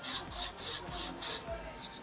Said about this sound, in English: So you place the sandpaper here and roll it